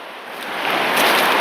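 Water rushes over the rapids of a mossy woodland creek in a steady, broad hiss that swells louder toward the end, close by and with no voices.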